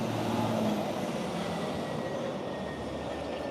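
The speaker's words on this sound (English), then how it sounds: "Here's the J train." San Francisco Muni J line train rolling past outside, a loud, continuous rumble of wheels on rails with faint metallic squeal, steady throughout.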